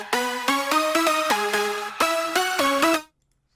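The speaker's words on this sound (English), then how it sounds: "without processing, the leads sound like this." Unprocessed synth lead line from a remix, bright buzzy harmonic-rich tones playing a stepping melody in short phrases, stopping abruptly after three seconds into silence.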